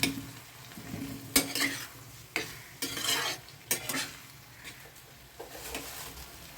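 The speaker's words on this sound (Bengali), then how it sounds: "এটাকে এখন একটু নেড়ে চেড়ে নিচ্ছি বেগুনের মধ্যে যে জলটা আছে সেই জলটাকে আমার শুকিয়ে নিতে হবে" Eggplant with ginger paste and tomato being stirred in a pan, with a soft sizzle under repeated scraping strokes of a spatula against the pan, close and alone.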